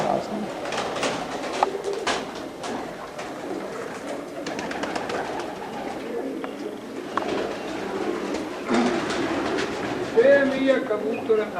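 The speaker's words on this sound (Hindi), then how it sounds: "कबूतर आए" Pigeons arriving coo softly in short repeated bursts among scattered flutters and background noise, while people talk nearby over them.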